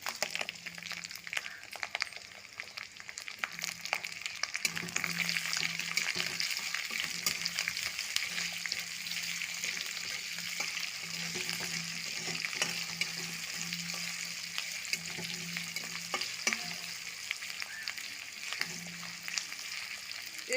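Chopped onion and tomatoes sizzle steadily in a hot pan for a Bengali katla fish curry, a continuous frying hiss broken by scattered scrapes and clicks of stirring, with no one speaking.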